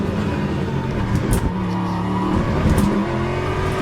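An LMGT3 race car in a racing video game accelerates hard, its engine a loud, continuous close roar with rising revs and brief gear-shift breaks throughout.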